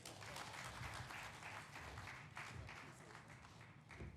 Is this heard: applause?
yes